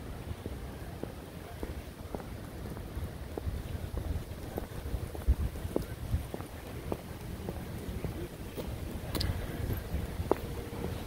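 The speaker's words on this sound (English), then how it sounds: "and very windy." Steady wind blows across a cool beach at San Buenaventura, California, a continuous broadband rush with gusty buffeting on the microphone and scattered faint ticks, and no talking.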